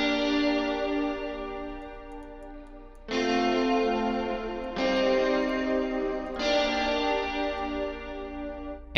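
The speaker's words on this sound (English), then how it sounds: "I have the guitars soloed here so you can hear it with the shimmer." Sustained electric guitar chords ringing out in a wide, shimmering wash of shimmer reverb, changing three times, with no voices.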